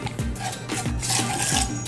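Sugar stirred together with oils, vanilla, herbs and spices in a bowl for a caramelized Greek yogurt parfait, a close spoon scraping and clinking against the bowl in repeated strokes.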